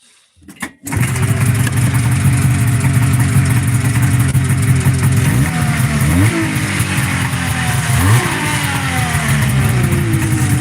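A 1978 Arctic Cat Jag 275 snowmobile running on 50-50 mixed non-ethanol fuel fires up with a brief cough, then holds a loud, raspy two-stroke idle broken by a few rising revs.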